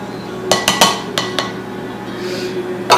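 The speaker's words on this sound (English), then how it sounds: "I'm going to add my 1 teaspoon of salt and just mix that in" Salt being mixed into three cups of flour in a bowl for soft sprouted bread, heard as five sharp clinks and scrapes of a utensil against the bowl, with a quieter rustle afterward.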